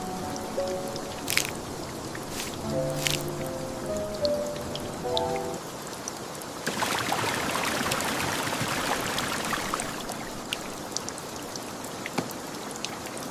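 Rain drips steadily in a forest with a dense, even patter of drops close around, with occasional louder single drips and a soft tonal melody in the first half.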